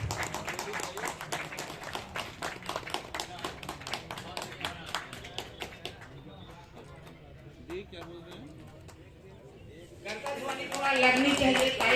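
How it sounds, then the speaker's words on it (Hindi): Crowd clapping at a community meeting of the Bharatiya Vishwakarma federation, a steady rhythmic patter of hands through the first half that thins out, then swells into louder, fuller applause at the end, with voices talking underneath. "ताली में कंजूसी मत कीजिए"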